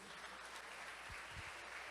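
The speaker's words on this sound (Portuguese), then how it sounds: "Dá mais um aplauso para Jesus." A church congregation applauding steadily, a dense wash of clapping that fills the whole moment at an even level.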